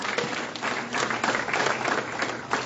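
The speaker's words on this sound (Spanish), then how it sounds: "Denle un aplauso grande al Señor." A church congregation claps together during a sermon, a moderately loud, even wash of applause lasting a few seconds with no voices over it.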